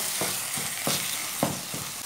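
Saag frying in a pan, a steady close sizzle broken by several stirring scrapes at a slow, uneven rhythm, with no voices.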